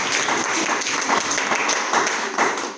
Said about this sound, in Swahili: Tumpatie Rev makofi mazuri.